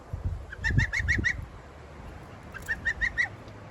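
A duck held during an angel wing wing-fix gives two bursts of about five rapid, evenly spaced nasal calls, close and fairly loud, with soft handling rustles in between.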